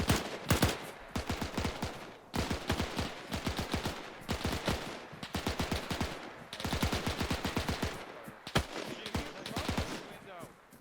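A machine gun fires long rapid bursts in Arma 3 during a night WW2 battle, loud close rattling volleys separated by brief pauses and continuing steadily throughout.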